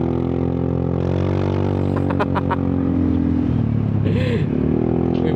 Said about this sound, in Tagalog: May mga motor pa ah.